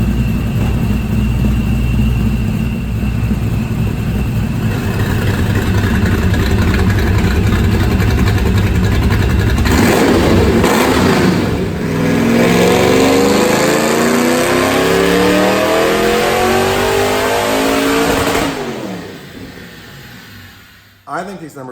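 A 2005 Ford Mustang 3V with a Paxton supercharger makes a dyno pull on 93 octane pump gas at 11 PSI. The engine idles and revs, then climbs in a long, loud rising wail before cutting off abruptly.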